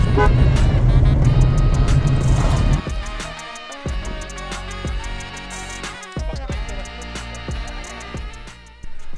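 A car with a broken clutch drives off-road on a rough track in Romania, its engine loud and close, with heavy knocks and jolts, a sharp drop in noise, then continued rumbling and bumps.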